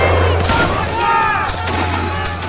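In a video game, a line of soldiers fires a volley on command, giving one sharp burst of gunfire followed by rolling, echoing crackle and a fading ring.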